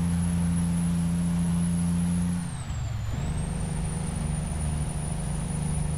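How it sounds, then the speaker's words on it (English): A loud, heavy truck engine in American Truck Simulator drones steadily with deep low harmonics and a high whine, dipping briefly mid-clip before settling back into a constant roar, with no talk. "And it sounds like that truck is really freaking loud"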